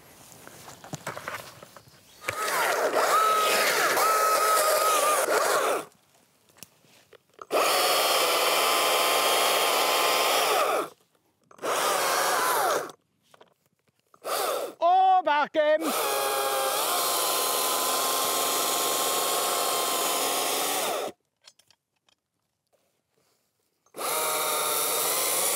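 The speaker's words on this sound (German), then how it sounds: "der Markus schneidet uns jetzt den ersten Baum" A power saw whines loudly in several long bursts separated by short pauses while cutting down a tree, with a brief pitch shift midway as it bites in.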